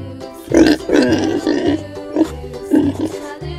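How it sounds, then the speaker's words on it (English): Pig grunting in a children's farm-animal sound sequence, with several short, loud, low grunts and snorts in an uneven rhythm, close and clear with no talk over them. "Pig."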